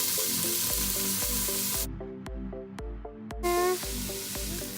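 Rice frying in a pan with garlic and cauliflower, a steady close sizzle with rhythmic stirring and scraping, briefly dropping out before the hiss returns over background music.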